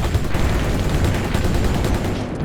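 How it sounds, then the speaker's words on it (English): Missiles launching in the Battlezone: Combat Commander video game make a loud, continuous roar of rapid bursts that stays dense and steady throughout, with no voices. "Missiles away."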